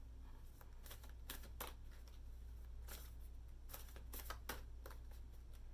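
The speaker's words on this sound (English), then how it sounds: "These cards are huge, so I have to shuffle them funny." Soft, irregular papery riffling and slaps of large tarot cards being shuffled, quiet and close over a low steady hum, with no talking.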